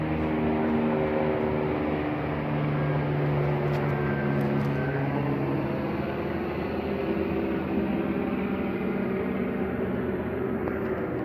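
Helicopter flying overhead outdoors, heard as a continuous, even droning hum with a steady low rotor rumble, moderately distant and unchanging, with no talking.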